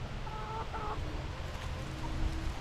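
Backyard homestead chickens cluck softly at a distance, with a couple of short calls standing out over low rumbling background noise.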